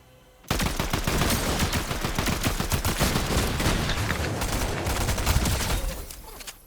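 Sustained rapid video game gunfire starts abruptly and keeps going loud and close in a dense automatic stream, then tapers off near the end.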